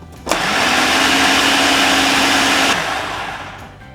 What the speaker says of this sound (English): put back in the blender.